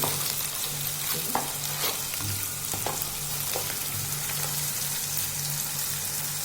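Kitchen King and sabzi masala spices fry in a hot pan with a constant close sizzle, broken by a few sharp crackles and stirring scrapes, and no talking.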